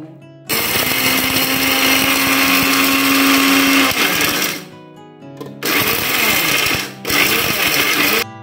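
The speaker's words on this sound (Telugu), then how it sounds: "ఈ మనం ఎండుమిరపకాయలు, మినపప్పు ఇవన్నీ వేయించుకున్నాం కదా, శనగపప్పు ఇవన్నీ మిక్సీ వేసుకుంటున్నాం" A kitchen mixer grinder whirs loudly as it grinds fried dried red chilies, urad dal and chana dal into powder, running in one long burst, then two shorter bursts with brief pauses between.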